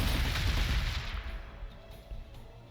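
Gunfire from units attacking a city in the Warhammer 40,000: Gladius strategy game during an Ork fight, a loud burst of booming shots at the start that fades into a lower rumbling tail, with no talk.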